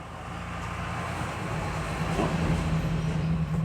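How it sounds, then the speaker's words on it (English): A truck rolls back down an alley at close range, a continuous low rumble that swells slightly louder as it passes, with a faint tonal hum running underneath. "There goes the truck back down the alley."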